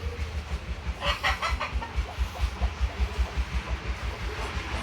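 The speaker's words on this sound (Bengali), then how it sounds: "ঘরের ভিতরে হাঁস মুরগি।" Chickens and ducks kept inside a coop on a village home farm, with brief bursts of clucking above a steady, rhythmic low thumping that runs throughout.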